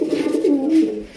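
A desi koka pigeon gives a single close, soft coo, a short throaty call.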